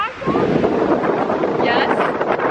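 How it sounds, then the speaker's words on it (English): Strong wind blasting into the microphone outdoors at a reptile garden attraction, a constant loud roaring rumble with brief faint voices and a dog nearby. "The wind is crazy."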